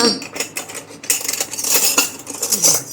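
Spoons and dishes clink and clatter at a breakfast of kanda poha, with bright metallic taps and scrapes coming in quick irregular bursts, closer and busier after the first second, with a faint voice underneath.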